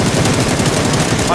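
Rapid automatic gunfire from a shooting video game rattles in one loud, unbroken burst of closely spaced shots.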